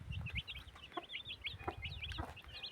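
Many small chicks cheep continuously in high rapid bursts, with low clucking and rustling underneath, close by.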